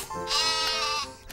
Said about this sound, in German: Geh zurück zu den anderen Schafen